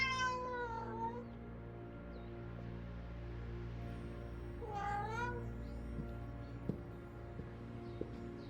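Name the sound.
cat meowing in the video game Vertigo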